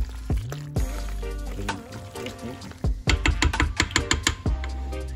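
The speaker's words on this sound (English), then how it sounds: "I'm gonna go ahead and stir it all around" Food stirred in a pot while making rum fried chicken with mac and cheese: close, irregular wet scraping and clinking strokes, some quick bursts, with a brief voice partway through.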